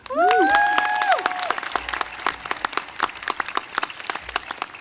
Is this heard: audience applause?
yes